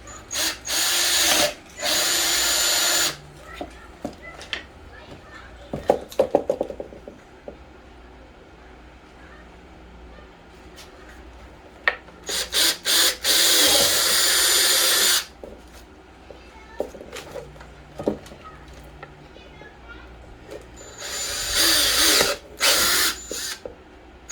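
A power drill whines in several loud bursts drilling holes in the plastic airbox of a Kawasaki Z400 or Ninja 400, separated by quieter stretches of handling and rattling noise.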